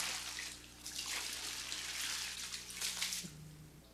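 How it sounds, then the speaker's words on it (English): Water splashes and trickles steadily as paper fiber is rinsed to wash away non-cellulose material, a soft continuous wash with a low hum beneath. "Rinsing the fiber with water washes away the non-cellulose material."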